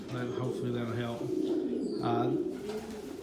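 Pigeons coo repeatedly in a loft, low rolling calls close by, with a person speaking over them.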